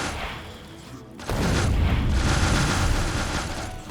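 Rocket explosions in Factorio, a sudden cluster of loud booming blasts striking at once, then a dense rolling rumble of overlapping detonations that holds steady and eases slightly toward the end.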